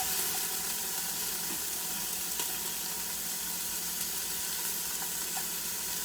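Onions sautéing in a pan while a creamy squash, tomato and lentil soup is being made; a steady, even sizzle runs throughout with faint stirring clicks and no talking.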